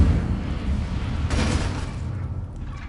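A fire spell, Incendio, from a Harry Potter video game bursts out as a low rumbling whoosh with a brighter flare partway through, loud and close, fading over about three seconds with no voices.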